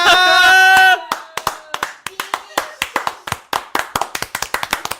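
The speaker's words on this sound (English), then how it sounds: "I was trying to do the Joker clap" Hand clapping in a live podcast setting, an attempt at the Joker's slow clap: a sung or hummed voice opens, then a long run of sharp, close claps with uneven rhythm that speeds up toward the end.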